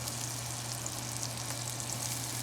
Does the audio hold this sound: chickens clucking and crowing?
no